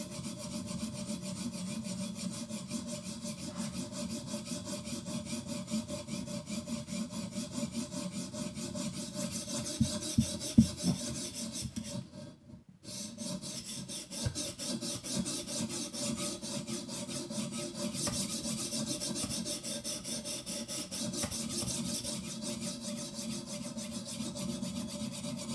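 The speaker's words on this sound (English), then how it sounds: "I'm sharpening lots of knives." A Benchmade Bugout 535 knife with an S30V steel blade is sharpened on a TS Prof guided sharpener, giving a steady, continuous rubbing rasp of stone against steel that runs throughout with only a brief pause midway.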